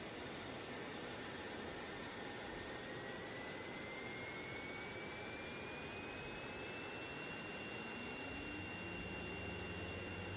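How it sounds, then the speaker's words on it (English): Steady loud roar of airliner jet engines in the video game Airport Sim, with a rising whine sweeping upward, constant and close, with no talking. "But the sounds of the engines, so good."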